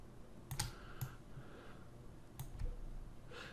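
Sparse mouse clicks come while a line is drawn with the shift key held: a pair of sharp clicks near the start, another around one second, and a final pair late on. They are faint and close, with no talking.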